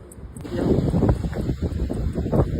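Strong outdoor wind buffeting the microphone in a continuous rough rumble that swells and eases over a few seconds, loud and close, with no clear voices.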